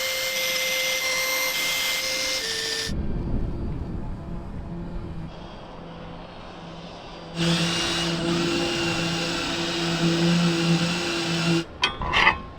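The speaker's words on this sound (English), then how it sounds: "I think I'm going to drill through the cabin tops and see how this is." Power drill boring through the cabin top of an abandoned catamaran under restoration: a sustained whirring motor run with a changing pitch, close and fairly loud, stopping briefly before a second burst and ending abruptly.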